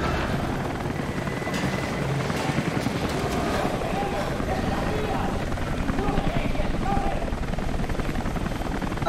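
A helicopter in the video game Rise of the Tomb Raider, a steady loud rotor roar that fills the whole stretch under game action and voices.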